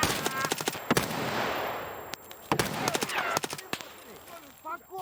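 Short bursts of MP5 submachine gun fire in a video game, rapid clusters of sharp shots separated by brief pauses, loud and close, with players talking over and between the bursts.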